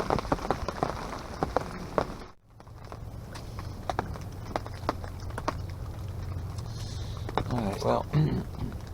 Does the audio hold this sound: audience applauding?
no